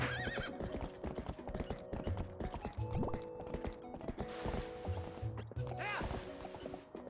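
A horse in Zelda: Twilight Princess clip-clops in quick, steady hoofbeats, with a couple of neighs and musical game tones layered over them.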